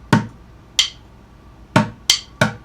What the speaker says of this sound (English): So we're going to put our sticks together, and then we're going to hit the middle of the drum for the D portion of that 8th note